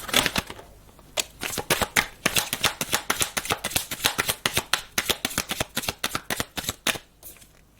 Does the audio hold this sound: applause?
no